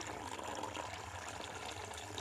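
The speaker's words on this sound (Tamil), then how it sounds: "இன்னும் கொஞ்சம் தண்ணி ஊற்றுவோமா?" Water poured into a container of powder for an instant snow experiment, a steady soft trickle that runs without a break at low level and stays faint in the background throughout.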